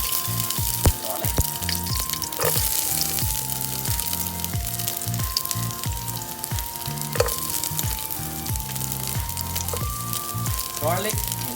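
Garlic sizzling in hot oil in a pan on a home stove, a steady crackling fry with sharp pops and spits throughout, close and fairly loud, with a voice talking over it at times.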